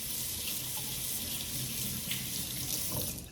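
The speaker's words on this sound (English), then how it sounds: "I rinsed off my spoon" Water from a kitchen tap runs steadily over a spoon being rinsed in a sink, a continuous close hiss with small splashes throughout and no talking.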